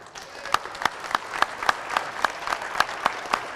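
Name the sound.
audience applause, hand clap of praise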